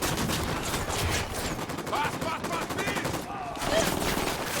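Rapid gunfire in the shooter game Ghost Recon Wildlands, a steady stream of sharp close shots with a sniper firing amid it, continuous through the stretch with a brief dip and a louder burst near the end.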